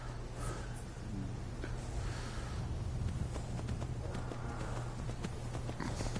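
Horse in the video game Skyrim VR making clip-clop hooves with snorting over a steady low game hum, fairly close and continuous.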